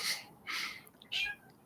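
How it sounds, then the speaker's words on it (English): An elderly house cat meows insistently at its owner indoors, three drawn-out cries in quick succession, close and fairly soft. "My cat's yelling at me."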